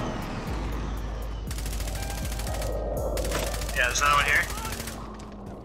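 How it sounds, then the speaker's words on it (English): Bursts of rapid enemy gunfire crackle in a squad shooter video game, several volleys overhead and at mid distance, with a player talking over them. "He's shooting right over the top of me."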